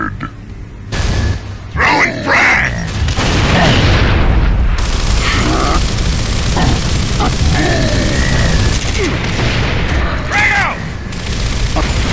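A grenade explosion erupts in Gears of War during a co-op fight on a platform, with loud booming blasts and mechanical game effects over several seconds while a player talks throughout.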